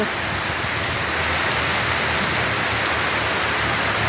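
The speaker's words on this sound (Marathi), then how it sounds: "किती जोरदार मुसळधार पाऊस चाललेला आहे" Torrential monsoon rain pours down in a dense, continuous roar, loud and steady, with no gaps or voices.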